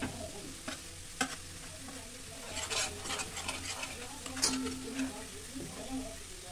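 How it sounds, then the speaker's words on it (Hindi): Garlic fries in hot oil while being stirred in a pan, a soft steady sizzle broken by scraping stirs and a few light clinks of utensil on metal, close and fairly quiet, with occasional talk. "गैस को ऑन कर लेंगे और लहसुन को अच्छे से भून लेंगे।"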